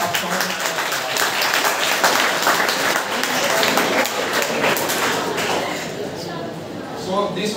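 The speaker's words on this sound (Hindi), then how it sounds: "एक बार अपने लिए तालियां बजाएं" Students in a classroom session clap together in a dense, sustained round of applause that fills the whole stretch and eases slightly near the end, with some talk underneath.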